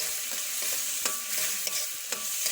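A spiced potato curry with chilli, turmeric and mixed masala is stirred in a frying pan, with repeated scraping strokes over a continuous soft sizzle and no talking.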